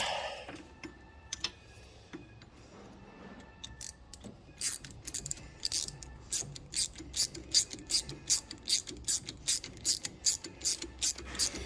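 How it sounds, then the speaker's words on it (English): A socket set ratchet tightens a bolt on a hauling bracket, giving a steady run of sharp, close clicks in quick strokes over the second half, after a quieter stretch of faint mechanical handling and shuffling. "We're putting the bolt through. Get a socket set."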